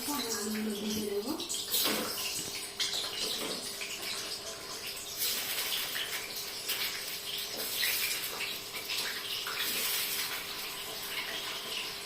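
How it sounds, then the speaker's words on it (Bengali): Potatoes fry in hot oil in a home kitchen while biryani is being prepared, a constant crackling sizzle with sharp pops and spatters, with a voice speaking briefly at the start. "এই যে তেল গরম হয়ে গেছে, হালকা তেল গরম হয়েছে, আমি আলুগুলো ভেজে দেবো।"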